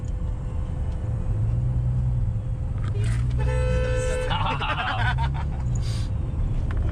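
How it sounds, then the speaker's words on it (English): A car horn gives a single short honk as a car rolls through a backyard, standing out over a steady low engine rumble. "You won't honk at him."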